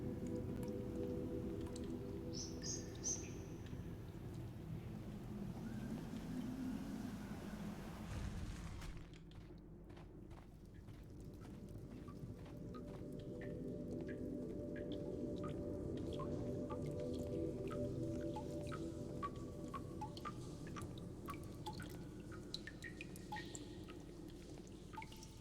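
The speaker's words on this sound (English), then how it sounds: "water dropping down from that." Water drips and splashes in Sherlock Holmes: The Devil's Daughter, with scattered droplets falling over a low, wet, churning ambience. A louder pouring rush fills the first stretch, then drops away to quieter, sparse drips.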